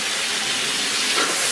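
Soy sauce hits a hot wok of stir-fried Pixian chili bean paste with a loud, steady, close hiss of sizzling and steam that holds evenly for the whole moment.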